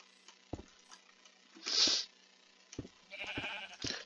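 Blocky sheep in the game Minecraft let out a couple of short bleats amid soft footstep pats and clicks, fairly close and alone.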